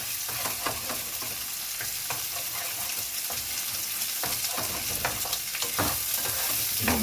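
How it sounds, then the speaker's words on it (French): Two eggs being scrambled with shrimp in a hot pan, a continuous close sizzle broken by frequent scraping and stirring clicks from a utensil, with no voices over it. "Et on fait un peu œuf brouillé."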